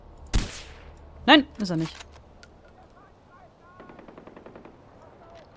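Gunfire in the video game Far Cry 4: a sharp, loud single shot opens, followed by someone talking, then a fainter rapid burst of automatic fire near the end.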